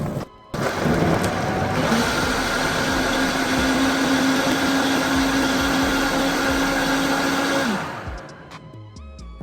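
Vitamix blender blending a green smoothie: a loud steady roar for about seven seconds after a short start, then winding down and stopping, with no talking.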